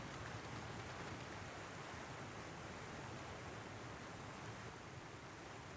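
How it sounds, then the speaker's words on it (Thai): Heavy rushing water from a powerful waterfall in the Battle Realms video game, a steady loud roar of broadband noise that continues unbroken and fills the whole stretch with no voices over it. "ว้าเสียงน้ำตกแรงจัด"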